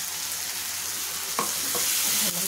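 Green ground masala paste frying in oil with onion and chopped tomato, a close steady sizzle with a couple of spoon scrapes as it is stirred, no voices.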